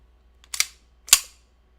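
Two sharp, close gunshot cracks about half a second apart in the video game Metal Gear Solid 2, each decaying quickly into silence.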